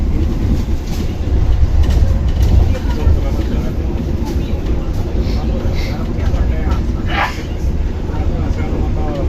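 Taksaka Executive train passing straight through Kroya station, heard from aboard as a loud, continuous low rumble of wheels and carriage, with a faint passing tone near the end.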